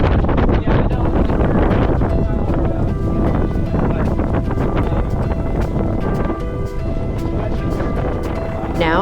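Hurricane Hilary's gusts in the mid-40s knots roar over a sailboat riding at anchor, a loud, continuous rush of wind buffeting the microphone, with water sloshing and rigging noise beneath.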